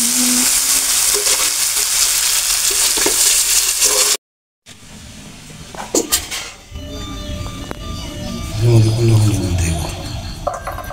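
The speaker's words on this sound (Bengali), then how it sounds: "তো দেখবে যখন মাখিয়ে নিই খুব ভালো করে কষে দেবো।" Spiced meat being stirred and sautéed in a pan, with a loud continuous sizzle, scraping and occasional clinks of the spoon against metal, interrupted by a brief silent gap, close and dense.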